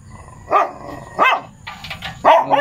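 A dog barks close by in a rural yard, three loud separate barks spaced about a second apart with a softer whine between, no talk over them.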